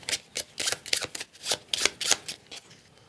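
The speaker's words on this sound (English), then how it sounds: "Pick up the Automa deck and give it a quick shuffle." A Wingspan board game Automa card deck gets a quick shuffle, a run of crisp riffling bursts in an uneven rhythm, close and clear with no talking.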